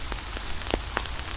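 Rain falling during a day hike in Wissahickon Valley Park, Philadelphia: a steady, dense hiss of rain on surfaces with a few louder nearby drips and taps, no voices.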